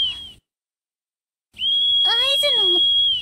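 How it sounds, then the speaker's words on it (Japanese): Whistle in the video game ChuSingura46+1 S: a loud, steady high-pitched tone held for well over a second after a brief silence, joined midway by a warbling, descending sound. "この笛の音は"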